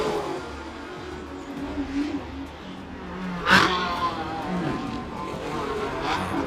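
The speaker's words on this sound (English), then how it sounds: "It's Toyota Supras in first and second, as Kentati Kasiri has been muscled back into third position" Toyota Supra and Porsche Cayman race cars accelerating on a track, engines roaring and whining at a distance with a brief louder pass midway, heard with no talk.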